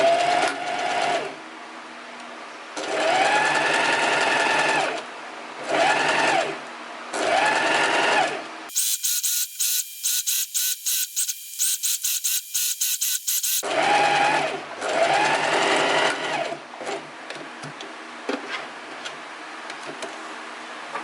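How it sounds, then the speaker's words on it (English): A home sewing machine stitches close to the edge of a skirt's fabric in several bursts of whirring motor, with a rapid ticking stretch in the middle, all without talk. "we're going to go to our normal sewing machine and we're going to do a stitch super close to the edge here"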